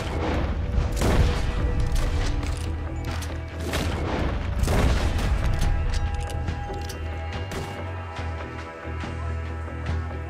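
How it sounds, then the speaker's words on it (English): Gunfire aimed at a cart in Red Dead Redemption 2 comes as repeated loud booming shots and crashes over a continuous low rumble, with several bursts clustered in quick succession. "He's shooting at the cart"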